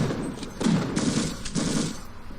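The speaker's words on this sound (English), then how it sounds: "You gotta peek around and machine gun him." Rapid machine gun fire in Half-Life, loud and close, coming in two or three dense bursts of overlapping shots with brief gaps between them.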